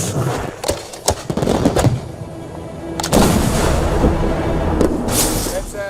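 Fireworks shells launched from high-density polyethylene mortars, several sharp loud thumps and booms at irregular intervals, some close and some more distant, with voices in between.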